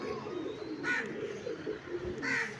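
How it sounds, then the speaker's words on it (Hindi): Pigeons settling on a perch coo in soft, low repeated calls, with two brighter bursts of higher sound breaking in near the middle and end, all over a steady murmur of background noise. "ये 1 नंबर कबूतर बैठ रहा है दोस्तों"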